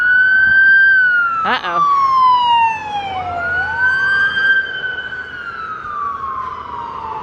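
A loud emergency vehicle siren passes close by outdoors in a mall parking area, piercing and wailing as its pitch sweeps down and back up, over traffic rumble, with a brief spoken exclamation near the start.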